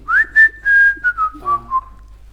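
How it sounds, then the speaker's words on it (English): A person whistles a short, clear melody of about eight notes, close and alone, sliding downward in pitch over roughly two seconds. "Can I whistle?"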